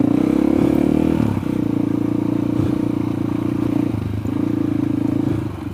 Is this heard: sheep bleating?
no